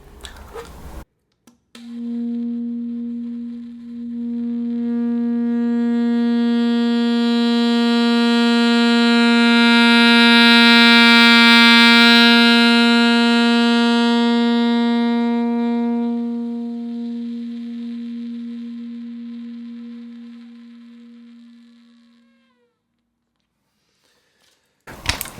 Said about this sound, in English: You start with the smallest sound that you possibly can, build it up into a big sound